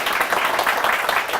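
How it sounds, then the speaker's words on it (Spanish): An audience applauds the speaker at a lecture on cryopreservation: a dense, steady patter of many hands, with no voices over it, for the whole short stretch. "por favor un aplauso para él"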